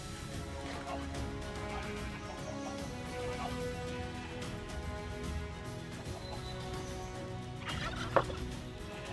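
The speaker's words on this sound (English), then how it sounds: "Right, turkeys and chickens." Turkeys gobble repeatedly in Modded Minecraft, a steady layered chorus of warbling calls on a farm, with a sharper burst near the end.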